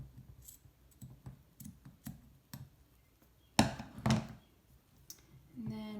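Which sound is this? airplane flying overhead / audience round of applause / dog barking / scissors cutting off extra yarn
scissors cutting off extra yarn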